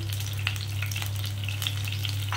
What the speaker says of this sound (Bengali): তেলটা একটু গরম হয়ে গেলে আমি এতে জিরে ফোড়ন দেবো